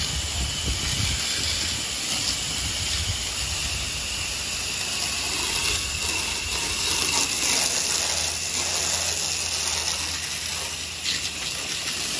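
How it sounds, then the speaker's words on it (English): Water rinse spraying a dirty metal building, a continuous hissing gush of spray with a low pump rumble underneath, steady and fairly loud with no talking. "Check it out with a simple rinse."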